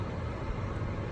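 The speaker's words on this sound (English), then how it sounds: "sorry about the stupid fan" In a home kitchen with the oven and stove running, an exhaust fan gives a soft, steady broadband whoosh, faint and unbroken throughout.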